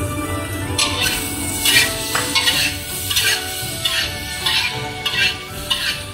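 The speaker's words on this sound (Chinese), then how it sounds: "把胡萝卜倒进去， 像这样不停的翻炒。" Carrots are stir-fried in a hot pan with a little oil, the spatula scraping and tossing in repeated quick strokes over a steady sizzle, loud and close.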